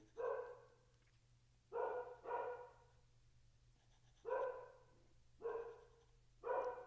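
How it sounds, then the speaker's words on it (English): A pit mix rescue dog barks in five bursts, most of them doubled woofs, slightly distant and moderately loud over a low steady hum indoors, with no one speaking. "You guys hear, my dog is going crazy."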